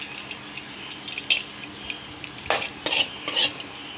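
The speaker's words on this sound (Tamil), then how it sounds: "இப்போ இதில் முந்திரி பருப்பை ஆட் பண்ண வறுக்க போகிறோம்." Cashew nuts roast in ghee in a pan while being stirred, with scraping and clinking of a utensil against the metal over a soft sizzle, close and moderately loud in uneven strokes.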